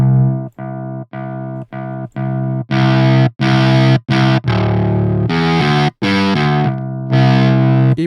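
A synth melody runs through the Tube Drive distortion effect in FL Studio 20, loud and gritty with rich buzzing harmonics, played as a string of separate notes with short gaps between them.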